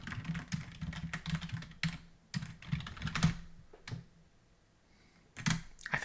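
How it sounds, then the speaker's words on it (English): A computer keyboard clacks as English commands are typed into a classic text-adventure game, with bursts of quick, close keystrokes separated by short pauses and a longer gap near the end. "I'm typing English commands"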